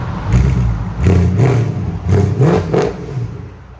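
A 2012 Mercedes C63 AMG with a 6.3L V8, headers and a cat-back exhaust revs loudly up close, giving several rising throttle blips that ease back to a burbling idle.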